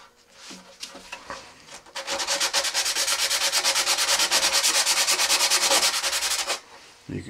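Sandpaper of 80 grit scuffs a rocket booster fin can, starting with a few scattered rubs and then settling into a steady, rhythmic back-and-forth scraping that is close and moderately loud before stopping.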